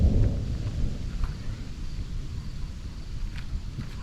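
Distant thunder rolls after a lightning strike during a storm, a low rumble loudest at the start and fading into a steady murmur of rain and wind.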